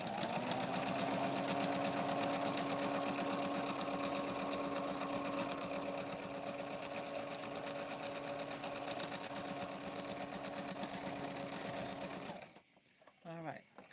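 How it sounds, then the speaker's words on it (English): Sewing machine double-stitching doll fabric runs steadily and loudly for about twelve seconds, a continuous motor hum with rapid needle chatter, then stops abruptly, leaving faint handling sounds. "I'm looking to want to double sew here"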